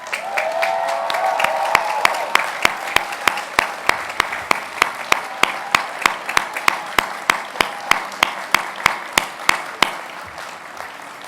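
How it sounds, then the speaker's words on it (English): A commencement audience applauds faculty and staff, a broad wash of clapping that settles into rhythmic, unison claps at a steady beat, thinning slightly toward the end. "I'd like you to give the faculty and the staff a round of applause"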